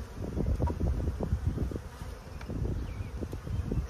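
Bees drone steadily around an open beehive during a beekeeping session, a close, dense buzzing that swells and dips in layers throughout.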